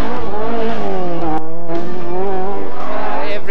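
A four-wheel-drive rally car at the 1981 Monte Carlo Rally, its engine loud and close with rising and falling revs, a brief dip midway before the note climbs again.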